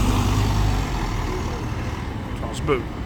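A heavy bus engine running roughly rumbles low and unevenly nearby at Sheffield Interchange, with a brief voice near the end.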